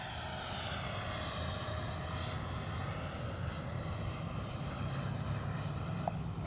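An E-flite 64mm Viper RC electric ducted-fan jet flies overhead with a steady, high whining roar that holds level before sliding down in pitch near the end, continuous and fairly distant, with no talk.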